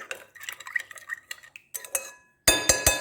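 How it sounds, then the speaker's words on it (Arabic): Dough ingredients, including yeast and sugar, mixed in a bowl for soufflé buns, with a utensil clinking and scraping against it in quick irregular strokes, ending in three loud ringing knocks. "دونك باش نخلط المكونات هذوما"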